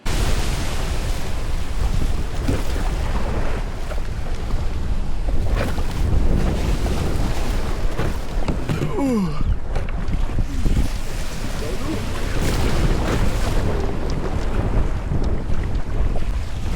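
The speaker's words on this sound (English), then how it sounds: "Here's a video about how the kayak did in pretty rough conditions" An Old Town Malibu ePDL+ pedal kayak out in rough offshore water, with steady wind buffeting the microphone over continuous sloshing and splashing waves, loud and unbroken for the whole stretch.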